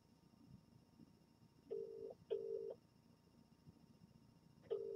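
Touch-tone dialing heard over a speakerphone, three separate steady beeps spaced apart with low room noise underneath and no talking.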